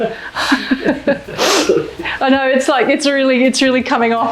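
A single loud, sharp sneeze bursts out in a home kitchen during plant-based wrap cooking, then a person speaks right after it.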